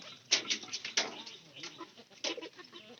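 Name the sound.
chickens clucking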